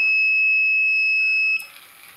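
A student-built anti-sleep alarm for drivers, triggered when the eyes close, sounds one steady, loud, high-pitched beep for about a second and a half before it cuts off, leaving faint room noise.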